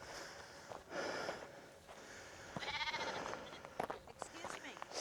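Sheep bleat in wild Scottish countryside, a few wavering calls rising out of steady wind and outdoor background noise, with a person speaking nearby.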